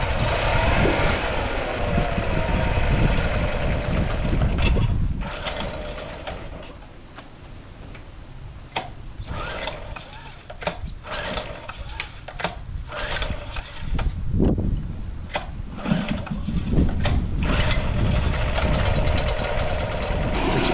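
An outboard motor, freshly carb-cleaned, runs loudly and steadily up close, its engine note dipping and surging as the idle is adjusted, with rapid ticking clatter throughout.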